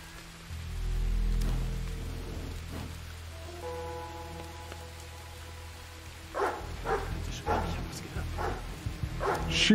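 Dog barking in the World War II stealth video game War Mongrels, a few barks in the distance over rain-like ambience and a low game soundtrack, with louder scattered sounds near the end.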